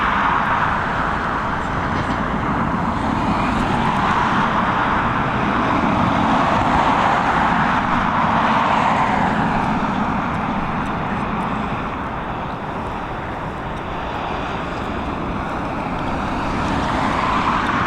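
An Aer Lingus airliner lands at Dublin Airport, its steady broadband jet roar holding loud and continuous throughout, with a slight swell and fade as it passes.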